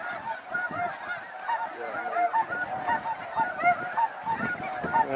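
A dense flock of snow geese honking continuously, many overlapping calls rising and falling at close to moderate distance, with no talking.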